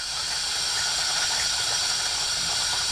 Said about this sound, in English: Sorry for the sink noise,